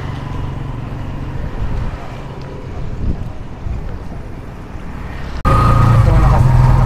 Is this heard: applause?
no